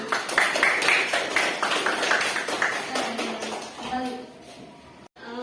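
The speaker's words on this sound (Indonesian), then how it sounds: "Tepuk tangan" Students in a classroom clap in a quick, rhythmic run of claps for about three seconds, then fade as a voice speaks.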